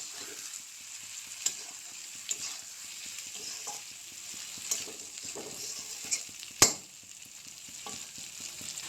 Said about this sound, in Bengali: জিরে গুঁড়ো, আর লাগবে ধনে গুঁড়ো। ভালোভাবে নাড়াচাড়া করে নেব একটু।